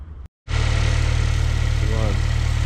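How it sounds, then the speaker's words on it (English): A 2006 Honda Civic Si engine cranks briefly, falls silent for a moment, then catches and settles into a steady, loud idle with a low droning hum that runs to the end. "It's time to start the car."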